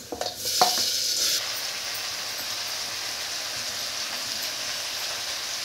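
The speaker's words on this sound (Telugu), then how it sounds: "చికెన్ చక్క నిదానంగా వేగుతుంది." Country chicken frying in a pan over a medium flame gives a steady, close hiss of sizzling after a few brief clattering stirs at the start.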